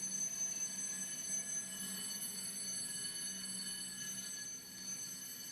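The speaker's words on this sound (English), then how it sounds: "I think these bells are constantly ringing. Like, oh my gosh, sounds like a school bell." Bells ring continuously like a school bell, a steady metallic ringing with high sustained tones, fairly faint and unbroken, dipping briefly near the end, with no voices.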